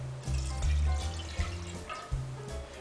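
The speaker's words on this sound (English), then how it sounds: "Next, just add your water" A cup of water is poured into a bowl with a cracked egg while mixing tempura batter for fried ice cream, giving a steady close splashing pour that runs through most of the moment with a few brief knocks.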